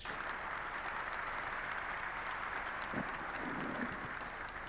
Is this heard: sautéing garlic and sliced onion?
no